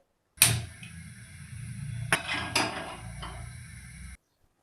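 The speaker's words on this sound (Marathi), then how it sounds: "तर इथे गॅसवर कढाई ठेवलेली आहे" A metal kadhai set down on a gas stove in a home kitchen, a sharp clank at the start followed by a couple of lighter metallic knocks and clatters, close and fairly loud, with a low hum underneath.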